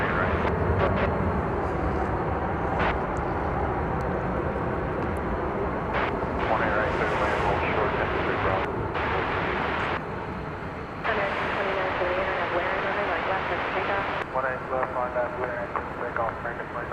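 Airliners at Dallas Fort Worth International Airport, a steady, loud jet engine roar from planes on the runways, heard at a distance under ongoing radio chatter and talk.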